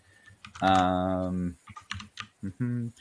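Rapid keyboard typing clicks sit under a loud, sustained humming voice-like tone that starts and stops twice.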